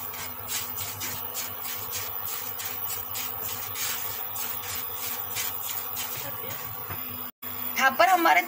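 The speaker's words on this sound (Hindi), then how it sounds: "तिल में से तड़तड़ आवाज आने लगेंगी, तो आपके तिल भून चुके होंगे।" Sesame seeds roast in a pan with rapid, rhythmic scratchy crackles and stirring scrapes, close and continuous, while someone talks over them.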